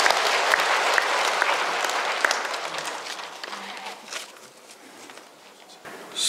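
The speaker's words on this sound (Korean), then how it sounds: "진심으로 박수를 보냅니다" A congregation applauds at a funeral Mass for a priest in Andong's Mokseong-dong cathedral, a dense, sustained round of clapping that gradually thins and softens toward the end.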